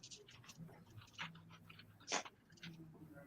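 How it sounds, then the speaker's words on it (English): Dogs wrestle nearby, making faint panting and mouthing sounds with a couple of brief sharp yelps or growls, under quiet room noise and occasional background talk. "The dogs are wrestling."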